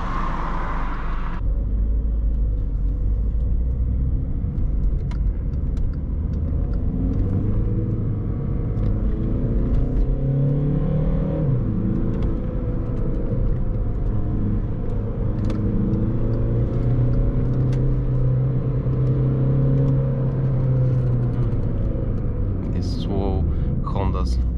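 A VW Polo V 1.6 TDI 90 HP diesel with a 7-speed DSG gearbox pulls hard at full throttle in city traffic, a steady close engine rumble with rising pitch sweeps from the cabin.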